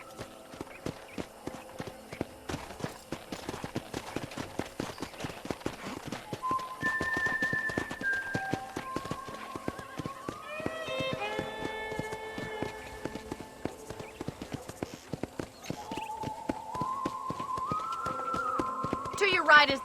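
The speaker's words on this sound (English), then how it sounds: "I picked out a fine horse for you. Come on, boy." Horse hooves clip-clop in a steady walking rhythm on a ranch in the video game Red Dead Redemption, with a whistled melody and game music layered over the hoofbeats and people talking at times.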